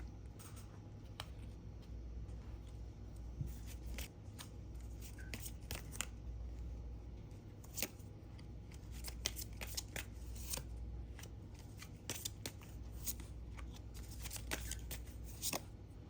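Tarot cards are shuffled and drawn close up, with a continuous papery riffle and scattered crisp flicks and snaps of single cards across sixteen seconds, fairly quiet under a low steady hum, no speech.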